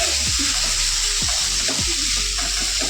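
Chopped tomato sautéing with chickpea ghugni masala in a pan, a loud continuous close sizzle with a few spatula scrapes and stirs.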